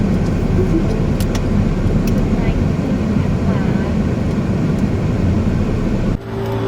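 A car pulls into the front parking area of The 28th Hotel Kanchanaburi in Thailand, with steady engine and road rumble heard from inside that cuts off abruptly near the end.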